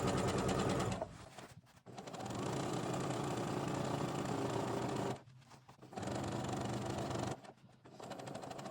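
A sewing machine stitches a seam on a handmade gift in three close, loud runs of steady whirring, with brief stops between them and no talking.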